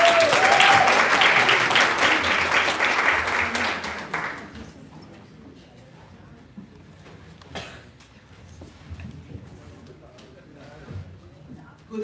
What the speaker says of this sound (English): Let's give a huge round of applause for our welcome address